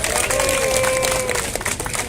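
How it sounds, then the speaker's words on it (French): A large crowd at a Pan-Africanist rally on Place de la République claps and cheers loudly and continuously, a dense wash of applause with shouting voices mixed in. "Applaudissez pour vous."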